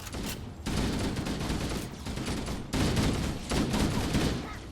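Sustained heavy gunfire from Halo: Combat Evolved in the Truth and Reconciliation level, loud dense bursts in two long stretches separated by a brief gap, with no speech.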